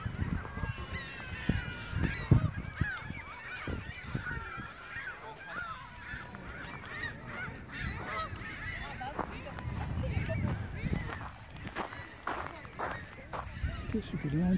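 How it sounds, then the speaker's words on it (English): Canada geese on calm water below a bluff give repeated nasal honks, some near and some farther off, over outdoor background noise. "Honkers, Canadian geese."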